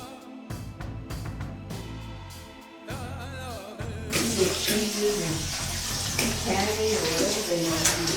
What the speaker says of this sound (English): So the water from the Pipe Spring is still flowing here